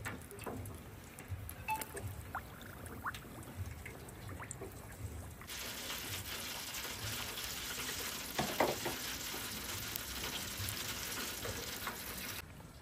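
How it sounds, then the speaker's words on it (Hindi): Samosas deep-fry in an electric fryer held at 160 degrees, giving a steady, fairly loud bubbling crackle of hot oil that carries on throughout, with a few sharper pops partway in and no talking. "सबसे पहले समोसे उल्टे करके डालेंगे।"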